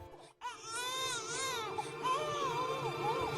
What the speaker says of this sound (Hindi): इसके अंदर से तो बच्चे के रोने की आवाज आ रही है।